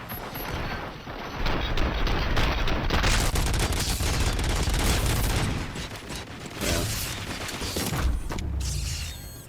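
Dense rolling gunfire and mechanical clatter from a video game firefight, loud and sustained with bursts and booms throughout, no talking.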